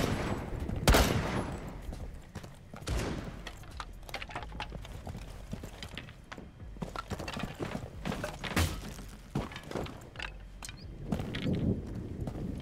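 Gunfire in the tactical shooter Rainbow Six Siege, with sharp shots fired in scattered bursts among mechanical clatter and footsteps, fairly close.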